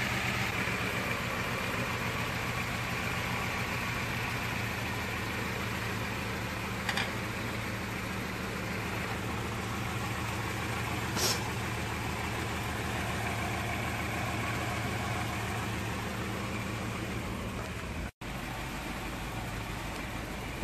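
A Toyota AE86 with a 4A-GE engine idles steadily with a low, even mechanical drone throughout as the idle screw is turned clockwise. A brief dropout occurs near the end.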